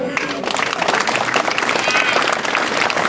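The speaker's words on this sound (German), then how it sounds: "Ich würde sagen, mal einen kleinen Applaus für unsere Kleinen hier." An audience at a carnival event in a town hall in Woltersdorf claps and cheers in a dense, loud burst of applause, with voices calling out over the clapping.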